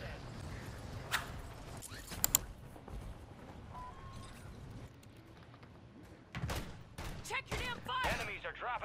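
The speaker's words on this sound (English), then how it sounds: "Why are you shooting at me?" Gunfire in Warzone 3, a few sharp scattered shots early on, then denser bursts near the end, heard under players talking.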